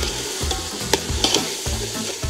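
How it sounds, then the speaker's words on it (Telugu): Rice being stirred in a pot over a firewood fire outdoors in a forest, a steady bubbling sizzle with repeated scraping stirs and soft clanks close by, no talking. "రైస్ ఒకసారి కలుపుతాను."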